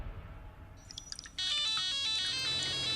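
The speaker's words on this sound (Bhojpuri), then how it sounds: "ये तीसरा बार फोन की घंटी बजा रहल बानी हम" A telephone rings in a home, first with a few faint chiming notes, then a loud, continuous electronic ringtone melody that plays on without any talking.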